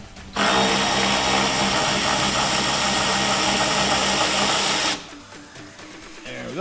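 A power tool, likely a ratchet or drill, loosens a 13 mm battery hold-down bolt on a Silverado/GMC truck, giving one continuous buzzing whir of about four and a half seconds that then stops.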